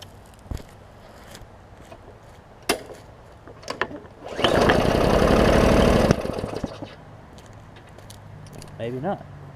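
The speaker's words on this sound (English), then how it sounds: "I think if we can get it fired up, we can loosen it up and let it get hot." A seized Hyper Tough push mower engine fires up roughly and runs loudly for about two seconds before dying, surrounded by scattered knocks and clunks, with a voice speaking near the end.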